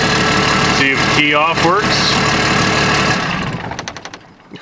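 A Cummins diesel swapped into a Ford idles loudly and close with a steady rumble, then winds down near the end, and a person speaks over it.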